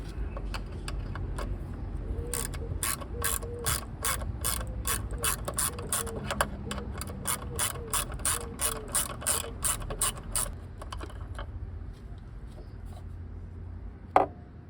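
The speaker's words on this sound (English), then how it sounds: "there's a bolt underneath that just takes a 10mm socket. You can undo and you should be able to just slide that straight out" A hand ratchet with a 10mm socket undoes a bolt on a Honda Monkey Z125 motorcycle, giving a close, steady run of sharp clicks that gradually slows and then stops, followed by a single louder knock near the end.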